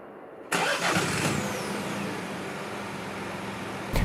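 A 2015 MINI Clubman's engine cranks and catches, then settles into a steady idle, close by with no talking.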